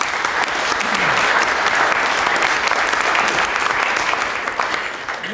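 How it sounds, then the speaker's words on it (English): A conference audience gives a sustained round of applause at an event on diversity in the third sector, the claps dense and even throughout and easing slightly at the close. "Can we give all of them a round of applause?"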